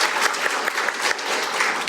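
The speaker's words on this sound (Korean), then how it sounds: "여러분 다시 한번 큰 박수로 맞아주시기 바랍니다" Loud, full applause from a forum audience at the National Assembly welcoming a committee chairman, many hands clapping briskly and steadily.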